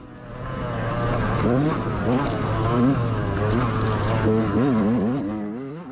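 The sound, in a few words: GNCC race dirt bike engine running rough, about to blow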